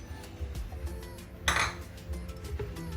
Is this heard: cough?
no